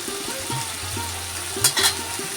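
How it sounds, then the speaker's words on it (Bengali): Potatoes fry in oil in a pan for a mutton keema dish. A steady sizzle runs under a faint tonal background hum, with a couple of quick metallic stirring scrapes. "একটু আলুটা ভেজে নিতে হবে"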